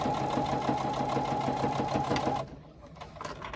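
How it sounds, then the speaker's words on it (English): A sewing machine runs steadily while stitching a 3/8 inch seam for a tote bag, a fast even whir close by that stops abruptly near the end, leaving quiet room noise. "I stitch my seam according to that guide"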